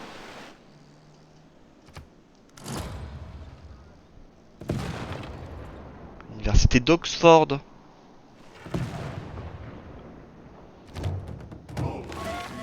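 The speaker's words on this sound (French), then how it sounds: "Il y a des coups de canon, mon pote." Several heavy booming cannon blasts in Civilization VI go off at intervals, one louder burst in the middle, with game sound effects and some speech between them.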